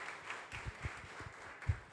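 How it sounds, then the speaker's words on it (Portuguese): Applause for the SP4 team at a seminar on integrative and complementary health practices: a modest, scattered round of hand claps from a small audience, with a few distinct louder claps standing out, no talking. "Palmas para o pessoal da SP4 que está aqui"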